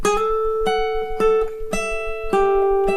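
A slack key guitar plays a short descending turnaround phrase, picked notes sliding up into pitch one after another in an even rhythm, clear and close.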